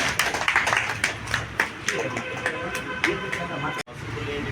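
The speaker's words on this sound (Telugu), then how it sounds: "మనం చప్పట్ల ద్వారా అవిసా బ్రహ్మణికి పుట్టినరోజు శుభాకాంక్షలు తెలుపుకుంటాం" A crowd clapping together as a birthday greeting at a community gathering, steady rapid applause carrying on for several seconds at moderate distance, then cutting off briefly before resuming.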